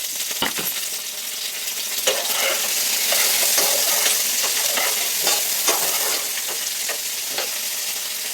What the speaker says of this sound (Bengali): তারপরে একে একে এইসব ভেজে দেবো